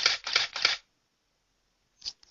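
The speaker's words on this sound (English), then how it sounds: "I hope you're able to hear the shutter speed." A Nikon D3200 DSLR shutter fires at 1/500 second, three quick crisp clicks in a row, then a short pause and another click, close and fairly quiet.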